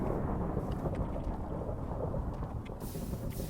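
Lightning strike and thunder in Minecraft, a continuous low rumbling roll mixed with steady rain hiss, a brighter crack near the end, no talking.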